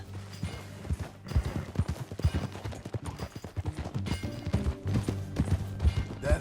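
Horse hooves clip-clop steadily at a brisk ride in Red Dead Redemption 2, with close, repeated thuds over a low background rumble and music.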